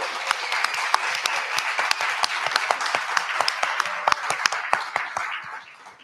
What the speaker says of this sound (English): can I just be selfish and ask for one more round of applause for Steve and Bob